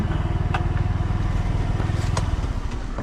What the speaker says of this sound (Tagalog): Arturo ang pangalan ng motor ni Tilo